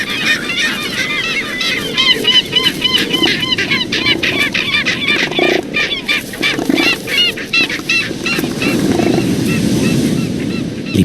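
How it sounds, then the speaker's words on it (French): Elephant seal mother and pup exchanging calls on a beach, a series of loud honking, repeated harsh cries close by, with overlapping animal calls and low background rumble. "Les premiers cris qu'échangent la mère et le jeune sont décisifs."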